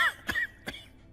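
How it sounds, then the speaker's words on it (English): A character in an English-dubbed fantasy anime gives a raspy cough followed by a second short cough, both close and dry, separated by a brief pause with no talk around them. "Let me cure your cough."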